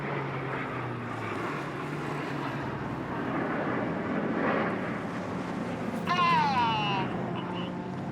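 Display aircraft roar past at an airshow, a broad continuous engine rush rising and fading while a commentator talks over it and a crowd murmurs, with a brief whistle-like tonal sweep near the end.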